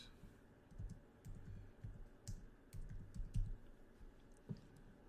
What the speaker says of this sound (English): Let me type it like this.